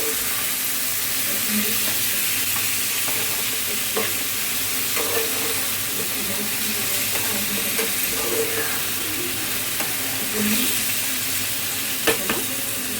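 Marinated chicken coated in salt, chili powder, turmeric and ginger-garlic paste is stirred in a pan, giving a steady soft sizzle and hiss with light scraping strokes throughout, close and continuous with no talking.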